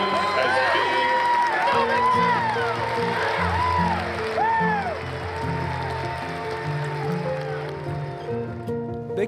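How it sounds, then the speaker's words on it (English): A stadium crowd of MLS supporters applauds in a moment of tribute to a late fan, a broad sustained roar of clapping and cheering heard under music and voices, loud and continuous throughout. "join us in a moment of applause to celebrate the life of Patrick Urban"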